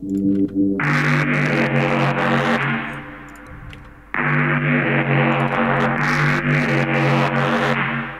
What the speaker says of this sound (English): you can hear that is adding a lot of distortion there.